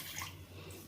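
Water pours steadily into a pot of foxtail millet rice for sweet pongal, a soft continuous splashing rush that fills the whole brief moment, close and fairly quiet with no talk.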